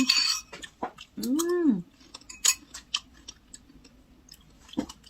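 Crunchy pounded snack being chewed up close, with a run of sharp crackling crunches, a brief voiced hum partway through, and a few scattered clicks toward the end.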